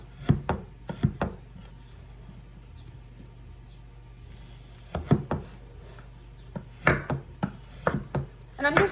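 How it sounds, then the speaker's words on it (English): A knife dices frozen chicken breast on a cutting board in a home kitchen, giving clusters of sharp, close chopping knocks separated by short pauses. "I prefer to cut it while it's still frozen."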